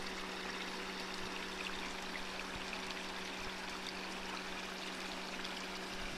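Water runs steadily from a roadside drinking fountain in the Rhodope mountains, a continuous close splashing stream with no voices.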